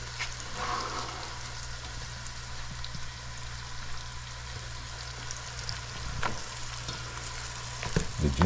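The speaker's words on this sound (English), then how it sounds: "Turn our stove a little higher so that these can saute properly." Garlic sautéing over raised heat in a pan on the stove for stewed pork with lima and red beans, a soft, even crackle with occasional sharper pops, near but fairly quiet, with no speech.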